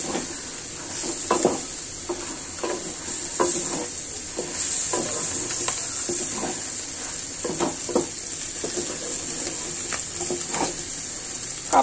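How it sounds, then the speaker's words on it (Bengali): A catla fish head fries in hot oil with biryani spice, giving a steady close sizzle with repeated scraping stirs of a spatula in the pan and no voices. "মাছের মাথাটা সুগ্রান হয়ে যাচ্ছে, আমার তেলটাও সুগ্রান হচ্ছে একই সাথে"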